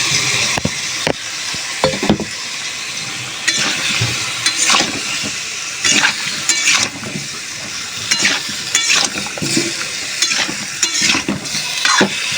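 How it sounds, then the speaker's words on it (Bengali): Vegetables and chopped tomato sauté in spice paste in a pan, with steady sizzling broken by repeated scraping strokes of a spoon against the pan, close and fairly loud, no talking. "মশলাটার সঙ্গে ভালো করে সবজিটা কষিয়ে নেব"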